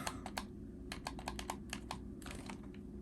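Sharp clicks from the L1 shoulder button of a Steam Deck handheld under repair, a dozen or so quick, close taps in irregular bursts over a steady low background hum.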